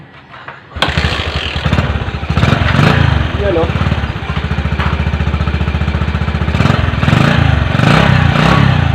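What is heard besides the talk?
motorcycle engine starting and idling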